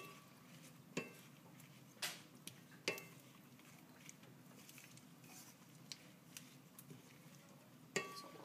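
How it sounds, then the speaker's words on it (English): Vegetables with orange and green color cook in a pan for Cuban pollo a la barbacoa, giving a faint steady sizzle broken by a few sharp scrapes and clicks of a utensil stirring. "So we'll stir it around and let it cook"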